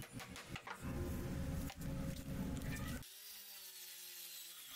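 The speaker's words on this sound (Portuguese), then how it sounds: "agora eu vou fazer o buraco para encaixar a porca desse parafuso de cama." A power drill bores a 25 mm hole in wood for a bed bolt nut, running loudly for about three seconds before cutting off into a quieter ringing tail.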